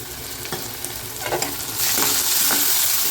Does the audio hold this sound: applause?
no